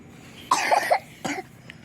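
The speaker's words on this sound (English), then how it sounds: "Oh, you're coughing?" Two short coughs, a sharp one followed by a softer one, from a nearby child in an otherwise quiet room.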